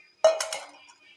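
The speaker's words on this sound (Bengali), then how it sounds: "আমি ঢাকনাটা তুলে নিচ্ছি।" A metal lid is lifted off a pot with a single sharp clink followed by a brief ringing rattle that fades quickly in a quiet kitchen.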